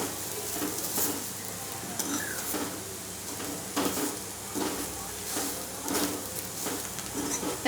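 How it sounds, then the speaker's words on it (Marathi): Ground masala paste (vatan) for Malvani-style black pea sambar frying in a pan, a steady close sizzle broken by periodic scraping stir strokes and light clinks of a spoon against the pan. "चांगलं एकसारखं फ्राय करा।"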